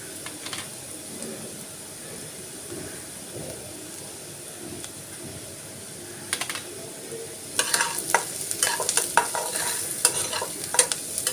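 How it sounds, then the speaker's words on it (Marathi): Spoon stirring peanut masala with turmeric, salt, onion and ghati masala in a pan, soft scraping at first, then louder rapid clinks and scrapes in the second half over a faint sizzle. "चांगले मिक्स करून घ्यायचे कांदा कांद्यामध्ये ते पूर्ण मिक्स झाले पाहिजे"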